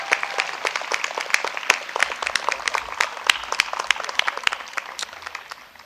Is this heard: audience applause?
yes